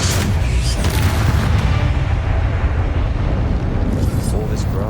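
A Confringo fire spell blast in Hogwarts Legacy, a broad roaring whoosh and rumble that holds steady and loud with a brief brighter flare near the end.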